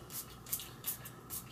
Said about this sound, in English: I put it in a little spray bottle, pull it out, and spritz it in your hair.